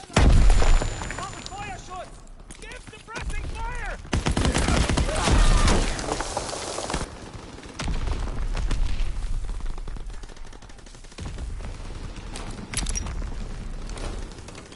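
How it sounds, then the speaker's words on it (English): Loud gunfire and booming blasts from a grenade explosion in the Call of Duty WWII private beta online shooter, continuous dense battle noise with bursts of shots through the whole stretch, with a voice talking over it. "Grenade, and I did not hit anyone."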